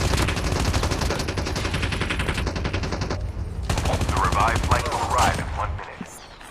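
Rapid, loud automatic fire from an AK-117 in the Call of Duty Mobile video game, in dense sustained bursts with a brief gap before the shooting cuts off near the end.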